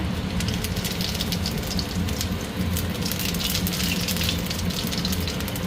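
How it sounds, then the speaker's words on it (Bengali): Cumin seeds sizzling in hot oil for a mushroom fry, a steady crackling hiss with scattered sharp pops over a low continuous bubbling, heard close and without talk. "তেল গরম হয়ে গেছে, তেলে দেবো জিরা"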